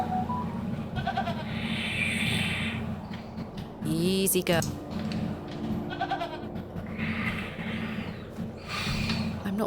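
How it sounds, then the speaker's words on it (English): A goat bleats in the video game The Excavation of Hobs Barrow, a few short nasal calls over a steady low ambient hum, with someone speaking briefly. "I'm not fond of goats at the best of times, but this one seems particularly disagreeable."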